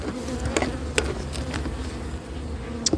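Honeybees buzz densely around an open hive during an inspection in a wet spring, a close, steady drone with individual bees whizzing past the microphone now and then.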